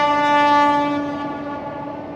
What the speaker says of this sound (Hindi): दुनिया के सबसे ऊंचे रेलवे आर्च ब्रिज के ऊपर से अभी ट्रेन निकली है, वंदे भारत।